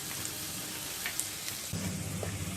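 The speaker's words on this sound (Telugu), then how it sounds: "నూనె వేడైన తర్వాత 1/2 కప్పు ఉల్లిపాయ ముక్కలను వేసుకొని వేయించుకోవాలి" Chopped onion pieces sizzling in hot oil in a pan while cooking egg biryani, a steady close crackle that thickens partway through as more frying noise joins in.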